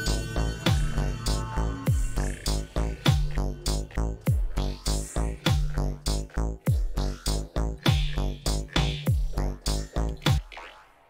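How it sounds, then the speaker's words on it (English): An electronic sound slowed radically to 50 BPM, a steady loop of loud, evenly spaced tonal hits with falling pitch sweeps that runs unbroken and then stops. "you just have to change the BPM of your sound radically"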